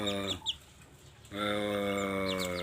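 Young chickens and a young rooster cluck steadily, loud and close, with a short quieter lull before the clucking resumes strongly.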